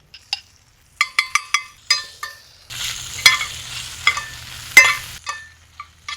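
Whole teardrop or cherry tomatoes and a little mustard hit a hot frying pan for Provençal shrimp, following a few light clinks of a utensil. A steady, close sizzle then crackles for a couple of seconds before fading out.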